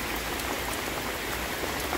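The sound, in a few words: heavy rain shower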